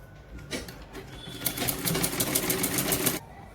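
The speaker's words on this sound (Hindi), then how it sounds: "अब हम इस कोने से भी इसे सिलाई लगा लेंगे, जिससे ये पूरा बैठ जाएगा गले में" A sewing machine stitches the neckline of a baby frock, starting with a few soft clicks, then running in one fast, even, close burst of rhythmic stitching for nearly two seconds before stopping abruptly.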